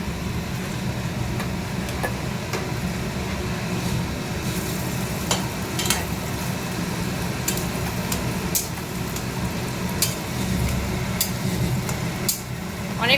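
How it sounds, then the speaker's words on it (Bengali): Onions and potatoes fry in a pan while being stirred, giving a steady close sizzle with scattered scraping clicks from the spatula throughout, and no talking. "পেঁয়াজটাও হয়ে গেছে, একদম লাল লাল ভাজা হয়ে গেছে পেঁয়াজটা"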